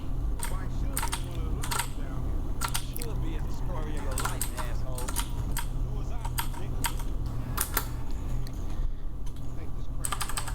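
Rapid mouse or keyboard clicks tap out an irregular rhythm while navigating a fiddly menu in Grand Theft Auto V, sharp and close over a steady hum of game sound and a faint voice.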